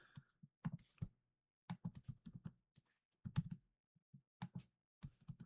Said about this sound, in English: Oh, what am I typing?